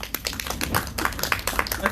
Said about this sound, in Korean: 다시 한 번 더 우리 관조도원 형님께 큰 박수 부탁드리겠습니다